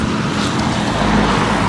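Steady, loud road traffic from cars rushing past close by on a narrow hedge-lined country road, a continuous broadband roar with no gaps and no voices.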